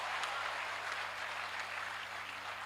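Audience at a Hindi poetry recital claps in a steady, fairly faint wash of applause, with a low hum underneath.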